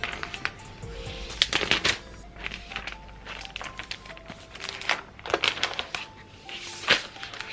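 Apple MacBook Pro 16-inch box being opened in a quiet room, with soft crinkling, rustling and scattered light taps and slides of cardboard and packaging, gentle and close, no speech.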